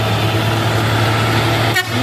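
A Hino truck labours up a hill, its engine droning steadily and loudly nearby, with a brief horn-like toot near the end.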